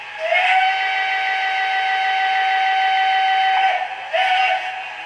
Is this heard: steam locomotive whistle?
yes